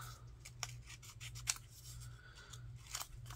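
Scissors snip around postage stamps as they are trimmed, a few crisp close cuts and light paper rustles scattered over a quiet room.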